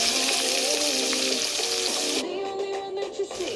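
An onion, garlic and ginger paste fries noisily in a pan for dum aloo, a dense close sizzle that eases into a quieter crackle partway through.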